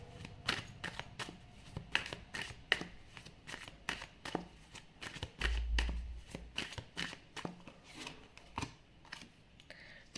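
Tarot cards being shuffled by hand, a rapid run of crisp riffling flicks and taps, close and fairly quiet, with no talking.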